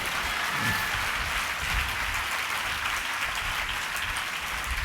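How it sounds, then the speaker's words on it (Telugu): A congregation claps at a Telugu church sermon, a dense, even wash of hand claps that holds steady for several seconds. It sounds moderately distant with no speech over it. "కొట్టొచ్చు చప్పట్లు"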